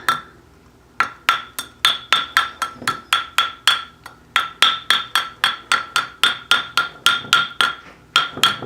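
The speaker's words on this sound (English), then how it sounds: "I'm hammering on the seam right now" Hammer striking the seam of a sterling silver bangle on a metal mandrel, sharp ringing metallic blows in a fast, even rhythm with brief pauses between runs, close and loud.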